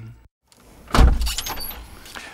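A window is slammed shut after a brief silence, landing as one heavy, close thud that rattles briefly as it fades.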